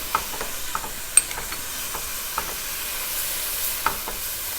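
Spices being stirred into garlic and ginger frying in oil for a Gujarati pasanda steak curry: a soft, steady sizzle with scattered light scrapes and taps of a spoon against the pan.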